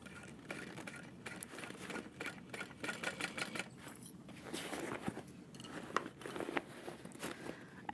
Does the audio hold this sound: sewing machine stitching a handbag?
yes